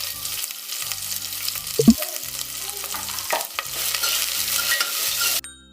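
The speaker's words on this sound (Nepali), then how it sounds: "अब त्यही तेलमा हामीले गरम मसला हाल्नु पर्छ।" Whole garam masala (cardamom, cinnamon, cloves, black cardamom and bay leaf) crackling in hot oil in a pressure cooker, a loud continuous close-up sizzle with a couple of spatters and stirring scrapes, then cutting off abruptly.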